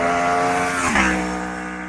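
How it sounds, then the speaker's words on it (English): Loud, close engine roar of an Aprilia RSV4 1100 Factory V4 motorcycle, its tone shifting and dropping in pitch partway through as it passes or changes revs. "Everyone that's into bikes must have heard an Aprilia V4."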